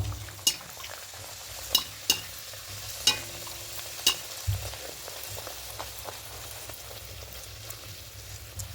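Milk powder kachori frying in oil in a pan, a steady soft sizzle close by, broken by several sharp clicks and taps from a utensil at irregular intervals.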